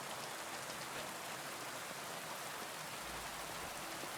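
Steady rain falling in the medieval open world of Kingdom Come Deliverance 2, a faint, even hiss of drops on surfaces with no breaks and no voices.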